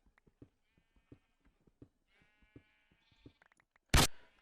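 Minecraft sheep bleats repeat at a steady rhythm, faint and close, with a soft tonal hum in the background and a short loud burst at the end.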